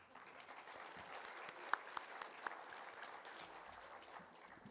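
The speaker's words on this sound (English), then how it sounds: "So please give yourself a well-deserved round of applause." An audience applauds at a literary festival's inaugural address, a soft, steady patter of many hands heard from a distance, with a few sharper individual claps standing out midway, no voices on top.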